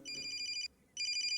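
A phone rings with a high electronic trill in two bursts, the first about two-thirds of a second, then a short gap and a second burst. It is clear and close, with no talking.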